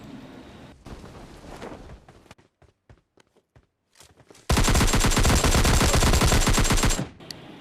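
A gunfight in PUBG Lite: a few scattered sharp shots and footstep-like taps, then a loud, sustained burst of rapid automatic fire lasting about two and a half seconds before it cuts off abruptly.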